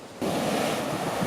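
Cold ocean surf surging and slamming onto a Cabo beach by a swimming area, a loud, continuous roar of breaking waves close by with wind buffeting the microphone, rising sharply after a brief quieter start.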